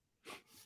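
A single short, faint sneeze bursts out and fades within a fraction of a second.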